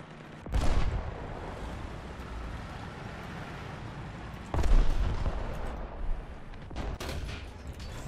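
Bomb blasts in War Thunder while driving a BT-7M light tank, two heavy booming impacts and a lighter one over a steady engine rumble.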